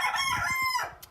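A hen, one of a backyard flock kept in snowy weather, gives a short, close run of throaty, rising calls with no talk over it, ending in a brief softer note.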